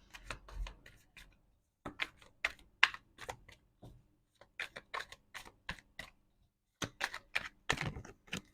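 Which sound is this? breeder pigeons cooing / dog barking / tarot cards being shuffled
tarot cards being shuffled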